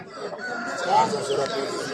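Hashaki chickens at a market give a short crow-like call amid clucking, with people talking nearby in a busy setting.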